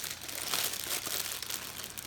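A plastic bag being handled while raspberry jam is readied for filling Hanukkah jelly doughnuts, steady close crinkling and rustling for about two seconds, no talking.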